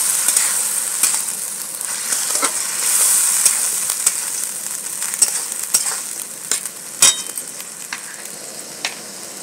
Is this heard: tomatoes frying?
yes